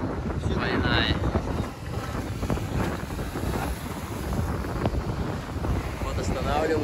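Motor boat rocking in open sea off Cape Tarkhankut, Crimea, hit by a double wave, with loud wind buffeting, water rushing and splashing against the hull, continuous and close.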